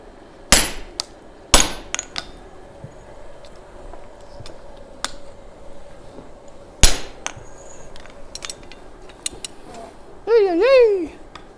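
Hot steel for an axe is struck with a hammer in a forge: a few sharp, ringing blows spaced several seconds apart, with lighter taps between and a short burst of speech near the end.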